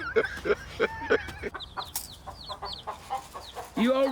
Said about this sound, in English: You old rooster? You hear me?